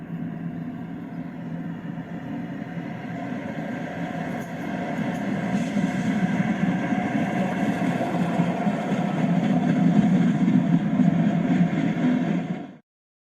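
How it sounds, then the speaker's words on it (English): A BR Standard Class 7 Britannia steam locomotive hauls a fast freight along a main line, giving a steady, continuous rumble that swells slightly louder before cutting off abruptly, with no talking. "Here we see him at the Sealining main line with a fast freight."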